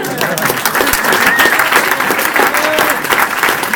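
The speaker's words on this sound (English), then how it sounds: "Applause!" A crowd at a business pitch event bursts into loud, dense applause, steady clapping filling the whole stretch with a few voices faintly mixed in.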